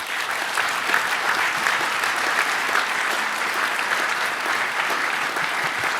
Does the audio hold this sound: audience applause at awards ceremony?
yes